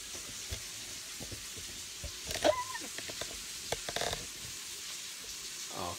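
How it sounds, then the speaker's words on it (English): Fish sizzling in a hot pan as it is basted with butter and olive oil, a steady soft frying hiss with a few clinks and stirring sounds, while a person talks quietly nearby. "We're gonna baste this fish."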